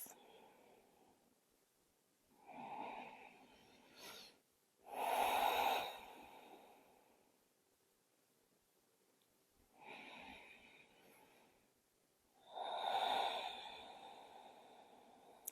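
Slow, deep breathing in a beginner yoga session, two long inhale-exhale cycles with soft rising inhales and louder, breathy exhales, close and quiet with no talking.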